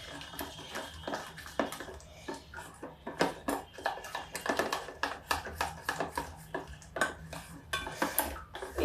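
A spoon whisks pakora batter for brinjal in a bowl, with quick repeated clinks and scrapes against the bowl in a brisk, uneven rhythm at close range.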